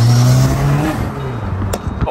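Car on air suspension driving, a steady low engine drone and road rumble with a brief louder bump near the end, fairly close, no talking.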